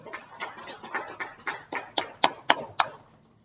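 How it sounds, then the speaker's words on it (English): A few people clap in a small room at a Toastmasters meeting, about a dozen distinct claps in a quick, slightly accelerating rhythm, the last ones sharpest before it trails off; faint and sparse rather than a full crowd. "Let us give a big round of applause."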